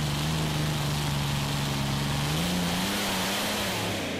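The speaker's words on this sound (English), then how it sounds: "Lovely tractor Black Gold" A tractor engine roars at full load during a tractor pulling competition in Brande, a steady loud drone with a rising pitch shift midway, heard alone without talk.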